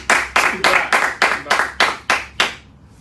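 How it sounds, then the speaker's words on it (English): Rhythmic clapping in a live studio talk show, nine loud, evenly spaced claps close to the microphone at a steady pace, sounding like one or a few people clapping in unison before trailing off into quiet. "Give him a round of applause."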